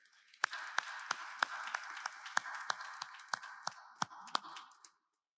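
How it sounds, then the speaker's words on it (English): A dense wash of audience clapping at a Veterans Day event with sharp, regular louder claps punctuating it, sustained for several seconds before cutting off. "Round of applause for our veterans here."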